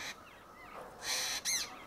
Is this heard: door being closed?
no